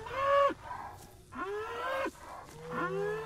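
Cows mooing in the alien-invasion video game Greyhill Incident, three drawn-out bellowing moos in a row, fairly close and clear against a quiet background.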